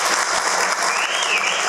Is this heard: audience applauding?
yes